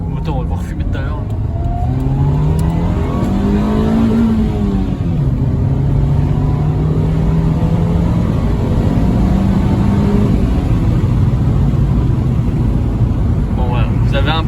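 A car engine revs hard and loud throughout, its pitch climbing, dipping and climbing again in sustained strained bursts, with someone talking over it.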